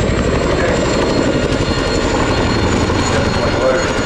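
An RAF Chinook helicopter flies low in a role demonstration at the RIAT 2024 airshow, its gearbox straining under extra weight. A loud, steady rotor and engine roar fills the whole stretch without let-up.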